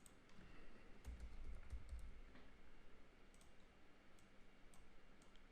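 Keys tapped on a computer keyboard while entering a command in Rhino/Grasshopper modelling software, a soft, quiet patter of clicks running steadily under a low background hum.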